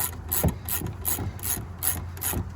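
Ratchet tightening the upper control arm bolts on a 2000-2004 Dodge Dakota 4x4, giving a series of rhythmic, close clicking strokes with short pauses between them and no voices.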